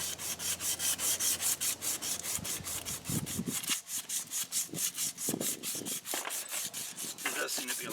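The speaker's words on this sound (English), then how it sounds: "I got some plumber's sandpaper here, you know, the stuff in the strip. I'm just going to get the paint off" A plumber's sandpaper strip rubs paint off a metal steering part on a Craftsman lawn tractor, steady back-and-forth scraping strokes in a quick regular rhythm, close and moderately loud.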